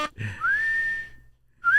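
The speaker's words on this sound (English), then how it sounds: "Why don't you whistle us a tune?" A person whistles a simple tune: a single rising note glides up and holds steady for about a second, then a second whistled phrase begins, clear and close with a brief breath or vocal sound at the start.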